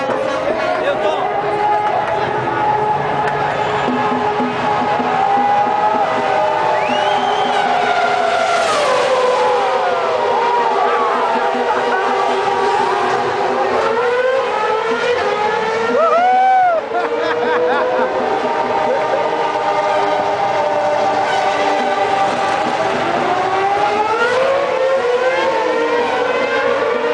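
Formula 1 cars roar and whine continuously at Indianapolis, engine pitch sweeping up and down as they pass, with crowd noise and a voice underneath.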